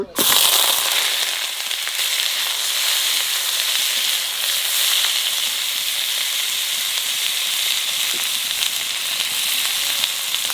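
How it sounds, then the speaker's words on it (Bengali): Raw jackfruit frying in a pan produces a loud, continuous sizzle that starts with a sharp burst, then holds a dense, even hiss with scattered crackles close by. "এইবার ইঁচড়টা একটু ভেজে নেব।"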